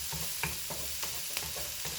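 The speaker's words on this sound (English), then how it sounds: "The onions are turning brown very quickly." Onions fry over medium-high heat in a pan for fried rice, a soft continuous sizzle with regular scraping strokes of a spoon stirring them, close and fairly quiet.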